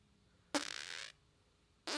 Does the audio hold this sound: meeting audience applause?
no